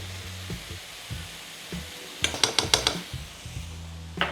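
Butter, cold from the fridge, melting and sizzling in a hot pan over lowered heat, a soft steady hiss under a low hum, with a quick cluster of sharp clicks and taps near the middle.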